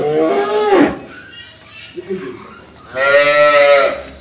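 A high-quality dairy cow at a dairy farm in Nilphamari lows twice, with a long loud moo at the start and another at the end, and a brief faint sound between.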